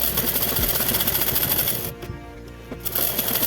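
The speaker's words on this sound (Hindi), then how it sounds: "अब हम आधी इंच पे सिलाई लगा देंगे।" A sewing machine runs a half-inch seam on a salwar, a dense steady mechanical whirr that dips briefly mid-way before picking up again at full pace, close and loud with no talk.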